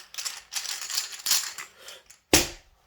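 Board game units rattle as they are mixed in a bag, a run of dry clattering bursts with short pauses between, ending in one sharp, louder clack.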